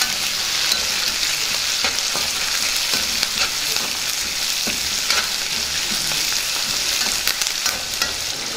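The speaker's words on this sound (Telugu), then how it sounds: "ముందుగా కట్ చేసి పెట్టుకున్న ఉల్లిపాయ ముక్కల్ని వేసుకుందాం." Onions, green chilies, dried red chilies and curry leaves fry hard in hot oil for fried rice, a loud steady sizzle with scattered crackles and stirring scrapes throughout, no voices.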